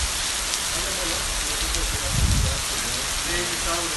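Heavy rain pouring onto a flooded football field, a steady loud hiss with a brief deeper rumble partway through, no voices clearly standing out.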